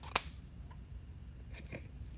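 Scissors snip through deco mesh for a wreath: one sharp close cut, followed by fainter small clicks and rustles of the mesh, quiet room, no talk.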